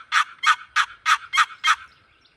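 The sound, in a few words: turkey call imitating turkey gobble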